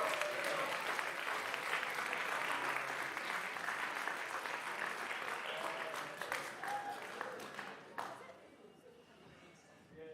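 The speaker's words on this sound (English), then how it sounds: "Give yourselves a round of applause." Audience applause for Dean's List students at a department symposium, a dense sustained clapping that fills the room for about eight seconds before fading quickly, with some voices mixed in.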